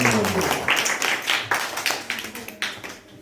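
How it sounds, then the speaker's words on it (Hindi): A group of children in a reading lesson claps their hands in a quick, slightly uneven rhythm, with voices mixed in. "ताली बजाओ सब लोग।"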